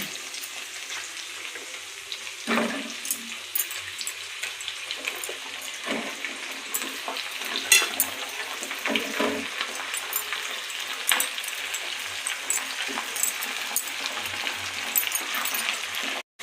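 Potatoes and flat beans fry in a pan with a steady loud sizzle, broken by occasional stirring scrapes and bursts of spitting throughout.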